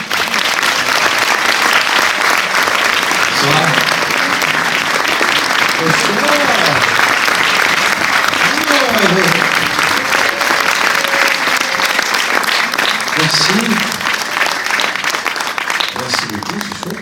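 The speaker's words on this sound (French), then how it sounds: "Je vous demande de faire un tonnerre d'applaudissements au réalisateur Ludovic Colbeau-Justin et au comédien monsieur Danny Boone." Loud, thunderous applause in a cinema for a film's director and lead actor at a premiere, dense clapping that carries on throughout with scattered cheers and voices mixed in.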